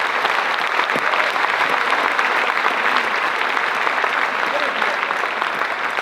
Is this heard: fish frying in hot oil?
no